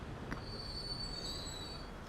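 A train in the Transport Fever 2 video game running quietly, with a thin, high wheel squeal drawn out over a low rumble and a brief click early on.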